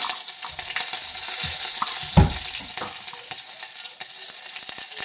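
Oil sizzles and crackles steadily in a pan as chillies are added to a tempering for khaman, with stirring scrapes and a brief louder splash partway through.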